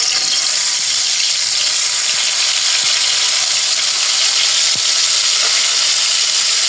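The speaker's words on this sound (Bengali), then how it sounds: "এখন মাছটা হালকা একটু ভেজে নিই" Shing fish coated in turmeric, chili and salt fries lightly in a little oil in a wok, giving a loud, dense, continuous sizzle with a faint tap or two.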